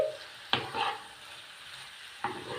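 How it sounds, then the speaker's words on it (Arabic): Chicken breast pieces stir-fry in a pan, a soft sizzle underneath two sharp spatula scrapes and a brief rustle of tossing, close and fairly quiet with no voices. "هفضل اشوح فيها كده لغايه ما تستوي"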